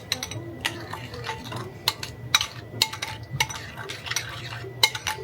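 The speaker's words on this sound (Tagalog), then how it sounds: "Haluin lang natin hanggang sa mawala yung buo-buo niya" A utensil stirs a soy sauce mixture in a bowl, sharp clinks and taps against the side in an uneven, quick rhythm over a soft background hum, close by and without speech.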